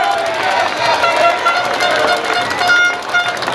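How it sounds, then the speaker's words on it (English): An audience at a Cup Match cricket presentation ceremony applauds the umpires, a dense, steady wash of many hands clapping throughout, with some voices mixed in. "I think they deserve a round of applause"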